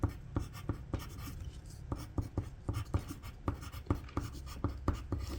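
A pencil scratches steadily across paper during a photorealistic sketch, making a close, dry run of short strokes at an even rhythm with no voice.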